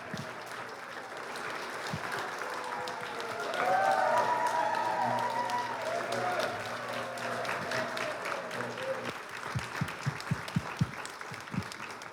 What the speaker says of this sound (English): Let's give Joyce a big round of applause